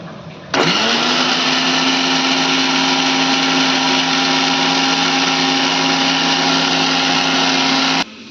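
An electric blender grinds peeled garlic and green chilies into a paste, switching on abruptly into a loud, steady high whine that runs for about seven and a half seconds before cutting off.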